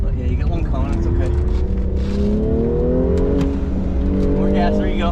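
An autocross car accelerates hard through a cone course at a park track, engine note climbing steadily in pitch, loud and close throughout, with a person speaking over it.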